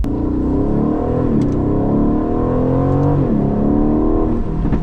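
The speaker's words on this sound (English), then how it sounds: "The burbles when you let off the accelerator." An Aston Martin Vantage engine rumbles loudly while driving, its pitch rising and falling, with crackling pops from the exhaust as the throttle eases off.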